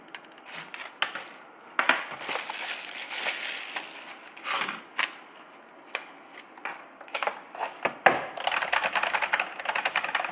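Rapid, uneven clacking of keys on a typewriter-style wireless keyboard, close up, with irregular bursts and brief pauses and no talking.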